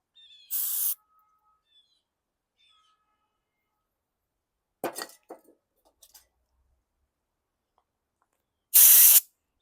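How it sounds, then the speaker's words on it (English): Two short, loud bursts of aerosol spray aimed at a 2019 Yard Machines 300E gas push mower, one near the start and one near the end, with faint handling sounds between them and no talk. "Some more spray."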